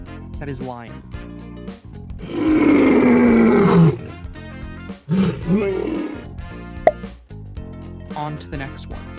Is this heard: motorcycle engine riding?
no